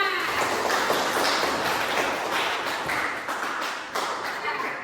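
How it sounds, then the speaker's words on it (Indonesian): Classroom students clapping their hands, a dense burst of many claps from a group in a room, fairly steady and moderately loud, with voices mixed in. "tepuk tangan"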